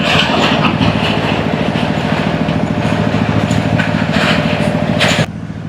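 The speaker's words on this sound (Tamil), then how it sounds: "டிராக்டர் ரக வாகனங்கள் இப்போ பயணம் செஞ்சு கொண்டு இருக்குது" Tractors crossing a bridge in Kilinochchi: heavy engines rumble steadily close by, a continuous low drone with rattling, then the noise drops suddenly near the end.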